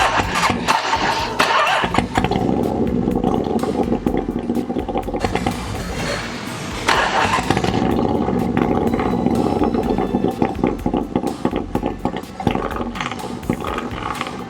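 A Honda Goldwing motorcycle engine cranks and catches, then runs at a loud, close idle with a steady mechanical rumble, revving up briefly before settling again.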